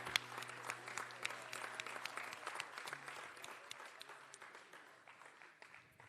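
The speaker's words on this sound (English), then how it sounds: "Another big round of applause," Audience applause at a junior chef competition grand finale award ceremony as a trophy is handed over, a steady wash of many hands clapping that gradually thins and fades toward the end, with faint voices beneath.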